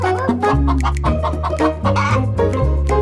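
A hen clucking loudly and repeatedly in close, insistent bursts, with a rooster-like tone, set in a children's story about a hen chasing a yellow dog.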